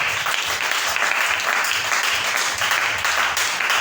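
A church congregation applauds together in a dense, steady burst of clapping that fills the room without pause, loud and near.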